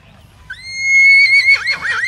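A horse at an agricultural show gives a loud, clear whinny that rises and then breaks into a wavering, shaking call, with quiet crowd murmur low in the background.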